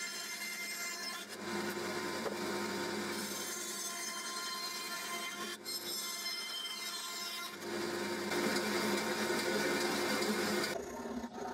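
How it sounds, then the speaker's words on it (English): A continuous mechanical whirring of a bandsaw cutting slots in wood, with the cutting tone rising and easing across several passes, fairly faint and steady. "Then I cut the slots on the bandsaw."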